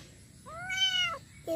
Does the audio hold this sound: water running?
no